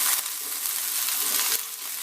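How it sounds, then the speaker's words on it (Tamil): Curry leaves sizzle and crackle in hot oil in a pan, a steady close frying hiss with a few louder pops and a brief stir partway through. "கொஞ்சமா கருவேப்பிலையும் போட்டுக்கலாம். நல்லா வதங்கணும்."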